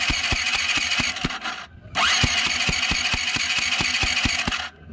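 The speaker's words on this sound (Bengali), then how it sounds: "আওয়াজটা ফাটফাট করে যখন উঠবে তখন ভাববেন যে আমাদের কম্প্রেসারটা ঠিক আছে বাইকে" A Yamaha R15 motorcycle engine is kicked over with a finger held against the compression opening, giving a fast, regular train of sharp popping bursts, close and loud, with a brief gap partway through.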